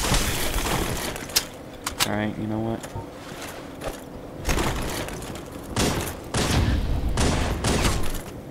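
Gunfire in a video game running the Asylum mod, with rapid shots, thuds and impacts in bursts during headshot combat, mixed with game noise while a person talks over it.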